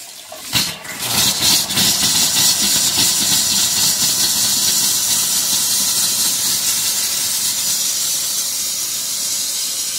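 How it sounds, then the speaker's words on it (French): While a water heater is purged, water and air rush out in a loud, steady spitting hiss that starts with a sharp burst and continues unbroken for about ten seconds, with no voices. "il faut attendre que l'eau s'écoule de façon régulière pour être sûr qu'il n'y a plus d'air à l'intérieur."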